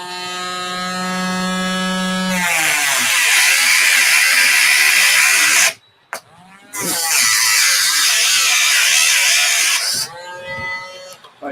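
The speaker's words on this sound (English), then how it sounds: "My Dremel needs charging." A cordless Dremel rotary tool runs loud and steady in two long bursts, briefly stopping between them, with a rising whine as it spins up and a fading whir as it winds down.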